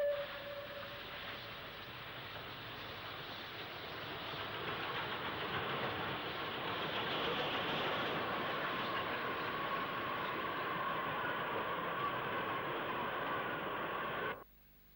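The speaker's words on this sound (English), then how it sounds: "35012 United States Lines runs light to Branksome carriage sidings as West Country Bear Alston arrives on an up Weymouth train." Southern steam locomotive 35012 United States Lines running light to Branksome carriage sidings as West Country Bear Alston arrives on an up Weymouth train at Bournemouth; a steady, fairly distant rumble builds and holds before cutting off.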